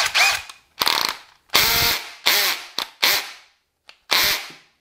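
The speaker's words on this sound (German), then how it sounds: "Jetzt schauen wir uns nochmal Bosch an. Kleinste Stufe. Hier auch auf Schrauben eingestellt." A Bosch 18V cordless drill on its lowest screwdriving setting drives a small screw in a series of loud, close, rattling bursts of about half a second each, separated by short pauses, with no talking.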